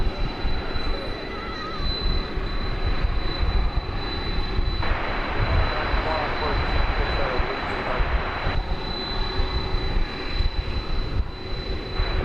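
A British Airways Boeing 747 at DFW airport gives off a loud, steady jet engine roar that fills the whole stretch, with a broad rushing wash and a high whine on top.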